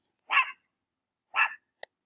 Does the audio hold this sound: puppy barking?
yes